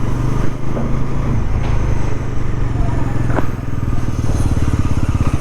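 A motorcycle engine runs steadily up close and loud, a rapid throbbing putter with clattering mechanical texture, holding an even idle throughout.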